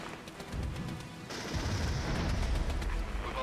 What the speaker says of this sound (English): Oh, here we go again with the mortars.